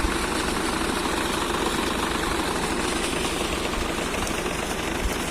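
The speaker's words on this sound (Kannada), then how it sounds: "Tractor pulley ಹಚ್ಚಿದ್ವಿ." A tractor engine drives a water pump through a pulley belt on a farm, a steady mid-pitched diesel chug with a knocking idle rhythm that stays loud and constant throughout, with no talking.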